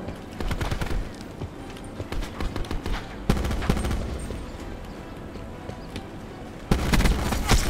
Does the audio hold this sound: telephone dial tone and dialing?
no